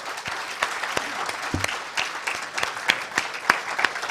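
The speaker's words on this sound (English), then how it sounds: "give a thunderous big round of applause" Audience at a pharmaceutical industry workshop applauding after a long question-and-answer session, a moderate crowd clapping with distinct individual claps standing out, fairly close and unaccompanied by talk.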